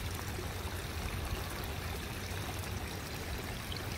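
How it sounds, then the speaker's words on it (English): Floodwater pouring like a small waterfall at a front door of a flooded rural property in New South Wales, a continuous rushing, splashing flow, close and steady. "The girls have got a front door waterfall."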